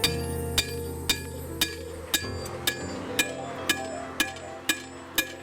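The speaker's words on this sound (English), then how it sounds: "I'm using the bottom corner of my hammer to pull it out." A farrier beats the heels of a horseshoe with a hammer, close and loud: about eleven sharp metallic clinks at an even, unhurried pace over a low background hum, with no talking.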